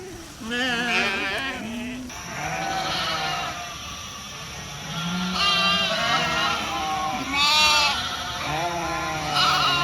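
A flock of sheep and lambs bleating over and over as they pour through a gate, overlapping calls, loud and close, with a steady engine drone underneath.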